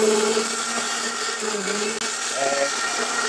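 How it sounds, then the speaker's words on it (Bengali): A high-power countertop blender with a silicone lid runs steadily, grinding ginger and garlic with a loud, continuous whirring roar and a brief dip near the middle. "এখন এই ব্লেন্ডারের কাছে দিবেন, 1 ঘন্টার কাজ মাত্র 10 সেকেন্ডে করে দিবে।"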